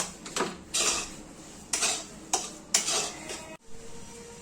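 A spoon repeatedly scrapes and knocks against a metal pan in uneven strokes as a thick betel-leaf modak filling is stirred, with a soft hiss underneath.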